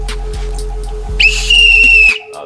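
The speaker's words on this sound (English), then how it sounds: "Oh, that's actually a good whistle." A metal toy police whistle blown once in a sharp, loud, shrill blast lasting under a second, close by, after a low steady hum.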